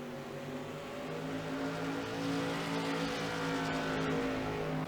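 Modified race cars in the iRacing video game at Martinsville Speedway drone steadily, their engines blending into a continuous buzzing roar that swells slightly midway and holds to the end.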